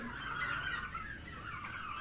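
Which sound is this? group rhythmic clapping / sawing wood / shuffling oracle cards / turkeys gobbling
turkeys gobbling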